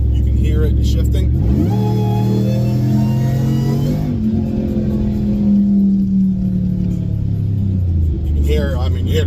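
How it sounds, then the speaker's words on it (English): A Whipple-supercharged 392 Ram truck accelerates hard from inside the cab, its engine note climbing loud and steady, dropping sharply at each gear shift and then rising again. "I'm going to do a quick pull. You can hear it shifting."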